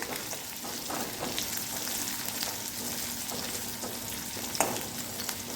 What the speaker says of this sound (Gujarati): અને સારી રીતે મરસાને તળી લેવાના છે